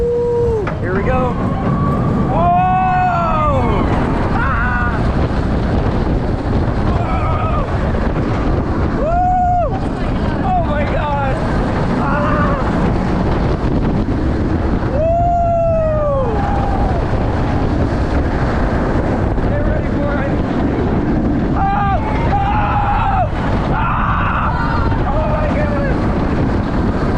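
Wind roars loud and constant past the microphone on a roller coaster at Busch Gardens Williamsburg, with riders screaming and whooping throughout.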